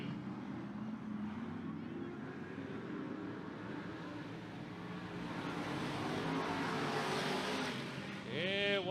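Race cars circling a paved oval during a televised race, a steady loud engine drone throughout with a rising whine near the end, under continuous commentary from announcers.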